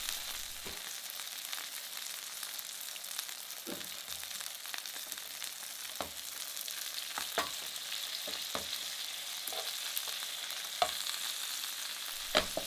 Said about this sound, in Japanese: ここにフレッシュのバターを入れてアロゼしてソールムニエルを仕上げていきます